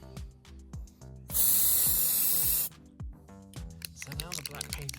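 White spray paint hisses loudly from an aerosol can onto a model vehicle part in one sustained burst of about a second and a half, with someone talking before and after.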